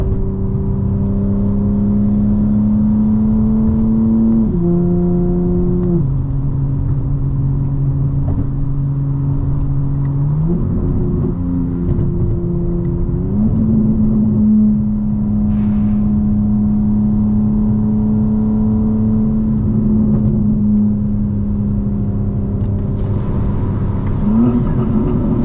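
A fully modified 2025 BMW M4 Competition xDrive drives with a loud, steady engine drone heard from inside, its pitch stepping down and up through gear changes as it coasts and pulls.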